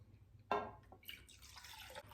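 Water pours into a dish holding soy sauce, for pork brisket cooked in soy sauce: a short splashing burst, then a quieter trickle and liquid sounds, close and soft.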